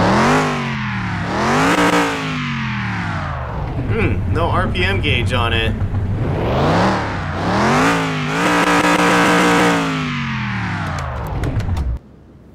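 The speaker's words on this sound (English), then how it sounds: "And start it up. Ooh, this thing sounds a lot louder than the truck." In Car Mechanic Simulator 2021, a Bolt Cargo van engine starts and revs loudly, repeatedly climbing and falling in pitch with a rough, throaty drone before cutting off abruptly, while someone talks over it.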